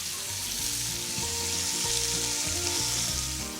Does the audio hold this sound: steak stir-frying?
yes